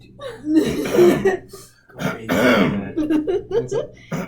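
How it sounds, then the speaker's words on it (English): A person clears their throat in several rough, guttural bursts separated by short pauses, close and fairly loud, with a voice around them. "That's how you clear your throat."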